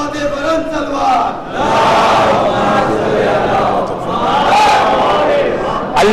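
A packed majlis audience at Rizvi College, Mumbai, roars religious slogans in unison, repeated chanted phrases rising and falling in waves for several seconds, loud and reverberant.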